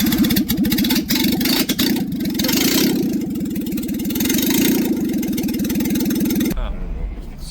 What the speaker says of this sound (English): All right, for giggles, no muffler. Let's see how it sounds.